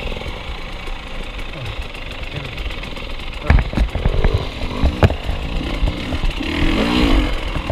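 A KTM motorcycle engine on a race track drones loud and close, with throttle blips and revving surges over a rough, buzzing idle while people speak over it.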